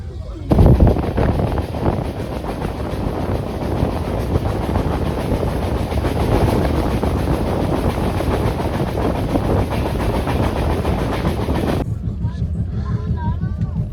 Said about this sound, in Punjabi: ਹੁਣ ਆ ਪਹਾੜ ਤੇ ਚੜਨਾ ਆਪਾਂ ਟ੍ਰੇਨ ਨੇ